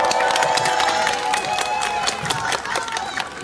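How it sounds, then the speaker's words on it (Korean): A large crowd at an outdoor political rally in Ulsan claps and cheers steadily for a Democratic Party parliamentary candidate, a dense, continuous wash of applause and shouting. "한 분 한 분 소개해 드릴 때마다 힘찬 박수와 함성 부탁드립니다."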